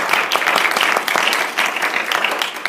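A congregation claps during a church worship service, a close, lively patter of many hands with distinct sharp claps rising and dipping briefly.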